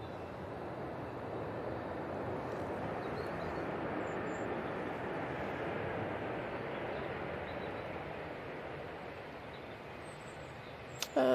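A plane touching down on the runway at Manchester Airport on a windy day, heard as a steady, broad jet roar from a distance that holds evenly throughout, with a brief clatter at the very end.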